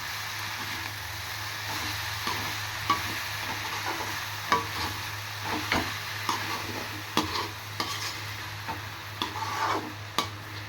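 Drumstick leaves sautéed in a pan for a stir-fry, a soft steady sizzle broken by repeated scraping and clinking of a spatula against the pan at irregular intervals, close by with no voices.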